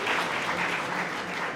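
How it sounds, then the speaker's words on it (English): Audience applause for a group of students from Finland at a school business-pitch event, a steady dense clapping from a large crowd that holds evenly throughout with no voices over it. "A round of applause for them."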